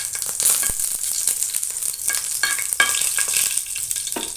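Whole fenugreek seeds fry in hot oil with a steady, close crackling sizzle, broken by scraping stirs and small pops, and no voices over it.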